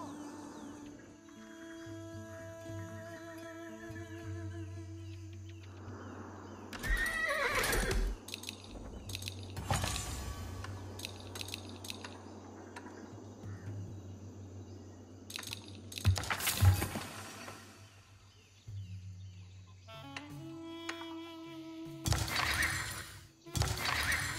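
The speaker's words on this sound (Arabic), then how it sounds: "مستعد لركوب الحصان" Horses neigh and whinny in the Age of Empires IV strategy game, with several loud whinnies and hoof clops over a steady game soundscape of ambient music, birds and occasional crashes; no one talks.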